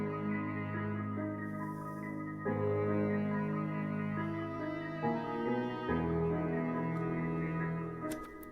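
A string preset from the Memphis kit, dry with no reverb yet, plays sustained layered chords that shift every few seconds, loud and full with no talking.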